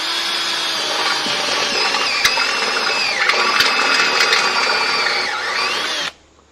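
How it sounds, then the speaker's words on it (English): A loud, steady whine of a power drill with a step drill bit cutting through a metal post, running continuously with occasional sharp ticks, then stopping abruptly. "I have here a stage drill or a step drill"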